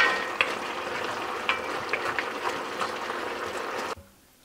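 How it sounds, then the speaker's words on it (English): Cabbage and andouille sausage fry in a pan with a steady, close sizzle dotted with small pops and crackles, which stops abruptly just before the end. "So you're frying it down, you're evaporating everything"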